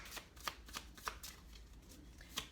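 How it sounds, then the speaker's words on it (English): Quiet riffling and flicking of tarot cards being shuffled by hand, with soft irregular snaps over a faint background. "I don't know why I was getting ready to shuffle"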